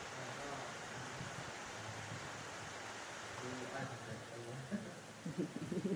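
Steady rain hissing as a faint, even wash, with low muffled voices talking intermittently beneath it.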